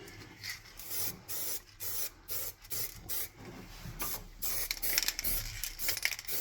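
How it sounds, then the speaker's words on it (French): A spray can of high-temperature aluminium paint is sprayed onto a car exhaust in short repeated hissing bursts with brief pauses between them, fairly faint and close, with no voices. "Une bombe comme ça, vous voyez là, comme la haute température, à 650 degrés"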